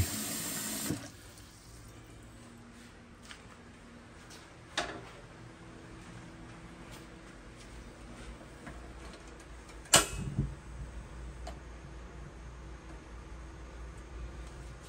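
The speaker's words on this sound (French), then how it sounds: "Mets de l'eau, noyez le hareng avec de l'eau." Water pours steadily into a cooking pot over herring for a rougail, a continuous close splashing rush with a couple of knocks and clatters, no talk.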